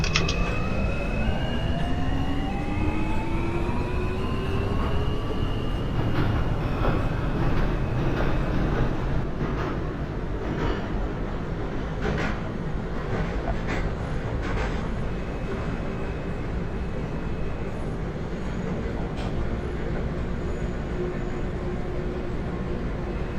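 Simulated R160 subway train on the D line in New York, running steadily with a rising motor whine at the start and continuous rail rumble throughout, no talk.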